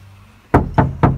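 Three loud, hollow, drum-like knocks on a disassembled Kia Optima door panel during sound-deadening work, struck close by in quick succession after a moment of quiet.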